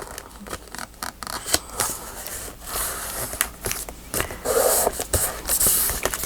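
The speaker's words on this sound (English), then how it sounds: "It's that darn trimmer of mine that is still a little wonky." A slightly wonky paper trimmer slicing through crackly paper, giving a series of sharp, irregular snips and scrapes, up close and alone.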